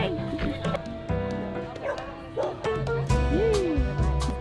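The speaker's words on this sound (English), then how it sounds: "There's so many puppies." Many puppies yip, whimper and bark in high, excited bursts throughout, close by, with people talking over them.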